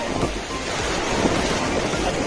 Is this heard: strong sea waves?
yes